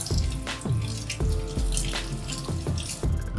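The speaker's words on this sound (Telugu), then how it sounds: "ఇప్పుడు చల్లటి నీళ్ళతో కడిగేసుకోవాలి." Cold tap water runs over sago pearls being rinsed in a strainer, a steady close splashing with repeated soft thumps and drips as the pearls are swirled and shaken.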